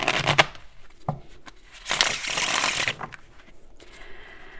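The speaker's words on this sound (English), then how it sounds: "split it into two and give her a shuffle" A deck of bendy, unedged playing cards being split in two and riffle-shuffled, giving quick papery riffles in a few close, crisp bursts with short pauses between them.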